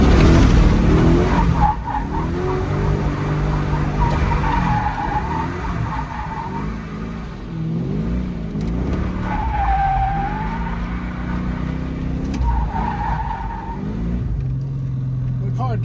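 A Ford Mustang drift car slides around a parking lot in first gear, with tires squealing in long wavering howls over the revving engine, several separate skids building and easing, and a voice talking at times.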